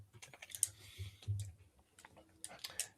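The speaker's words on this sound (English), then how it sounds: "we can hear it all typing" Faint clicking of computer keyboard typing comes through a live call mic in irregular bursts, with low murmuring voices beneath it.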